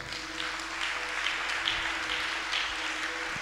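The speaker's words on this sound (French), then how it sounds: "Acclame Jésus." A church congregation applauding and cheering for Jesus, a steady wash of clapping from many hands under a faint sustained tone, even in loudness and without spoken words.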